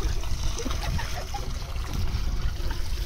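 Water poured from a bucket into a pump, a steady gushing, trickling splash lasting the whole moment, fairly close and continuous with no distinct breaks.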